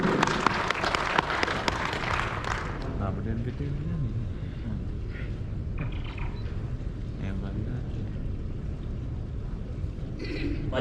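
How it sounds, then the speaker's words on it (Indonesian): A burst of clapping and cheering from a crowd fills the first couple of seconds, then fades into murmuring room noise and scattered voices. "Tepuk tangan untuk beliau."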